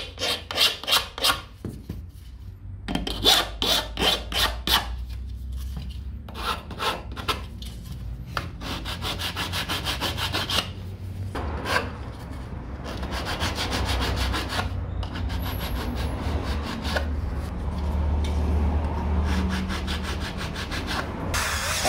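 Hand filing of freshly cut aluminum frame and corner-bracket pieces, smoothing 45-degree cuts: repeated close rasping strokes in uneven bursts, scraping steadily, then a denser continuous rubbing toward the end.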